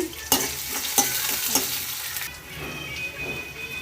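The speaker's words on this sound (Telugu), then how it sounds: "ఇప్పుడు మంచిగా బ్రౌన్ కలర్లో వచ్చేలాగా ఫ్రై చేసుకుందాం" Onions with crushed garlic, salt and turmeric sizzle in a pan, close and steady, with three sharp utensil scrapes against the pan early on before the sizzling settles.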